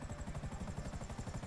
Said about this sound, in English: I called a helicopter pickup.